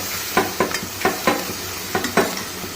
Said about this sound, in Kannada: ಈ ಸಾಮಗ್ರಿಗಳನ್ನೆಲ್ಲ ಚೆನ್ನಾಗಿ ಕಲಸಿ ನಂತರ ಹೆಚ್ಚಿಟ್ಕೊಂಡಿರೋ ಅಂತಹ ಈರುಳ್ಳಿನ ಹಾಕೋದು